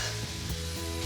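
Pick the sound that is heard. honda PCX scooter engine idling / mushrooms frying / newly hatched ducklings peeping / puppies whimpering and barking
mushrooms frying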